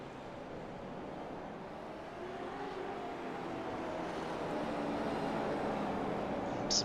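iRacing Supercars race cars run close together through a tight section of the Miami track, a steady roar of engines building slightly as the pack passes, distant and even, with no talk.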